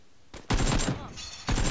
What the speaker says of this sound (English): This is iron sights firing.